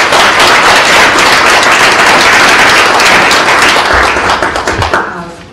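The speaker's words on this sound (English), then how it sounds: "Let's give Chief Branch and his crew a round of applause." A leadership council meeting audience applauds Chief Branch and his crew. The clapping is loud, close and sustained, then thins into scattered individual claps and fades out near the end.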